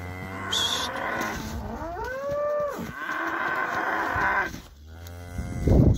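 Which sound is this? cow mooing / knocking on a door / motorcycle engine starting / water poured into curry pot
cow mooing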